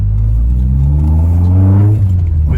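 A modified Toyota Corolla GT-i with a swapped 4AGE 20V engine, heard from outside the car, gives a loud, close throttle growl that climbs steadily in pitch as the revs rise, then eases off near the end.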